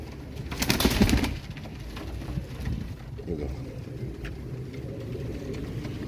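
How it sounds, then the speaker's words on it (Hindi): Pigeons coo in low, soft, repeated calls close by, with a brief rustling burst near the start and faint background voices. "सब अच्छे कबूतर हैं।"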